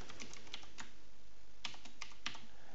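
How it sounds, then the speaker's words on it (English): Name typed on a computer keyboard, a quiet run of separate, irregular key taps over a low steady background hiss. "So we type in our name"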